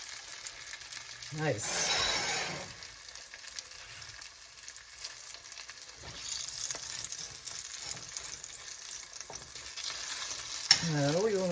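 Okonomiyaki sizzle and fry in a pan while a spatula turns them over, a steady crackling hiss that swells briefly during the flip, close and moderately loud, with a voice speaking briefly.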